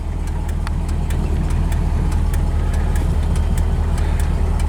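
A 1968 Chevrolet Camaro engine idles steadily and smoothly, a low continuous rumble close by with no talk over it.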